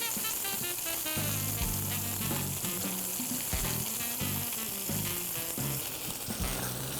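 A Florentine steak, bistecca alla fiorentina, sears in a hot pan with fat rendering, giving a steady loud sizzle and crackle throughout. Music runs underneath.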